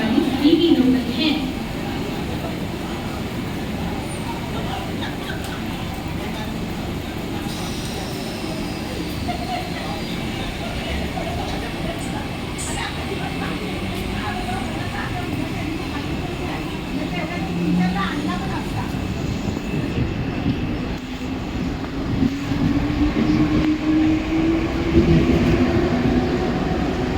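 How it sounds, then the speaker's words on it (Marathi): A Mumbai local train waiting at platform 2 at night, bound for Chhatrapati Shivaji Maharaj Terminus, with a steady rumble and hum of the station and carriages, while a voice announces the train throughout. "प्लॅटफॉर्म क्रमांक 2 पर आई हुई लोकल 8:22 की मुंबई छत्रपति शिवाजी महाराज टर्मिनस जाने वाली ही लोकल है।"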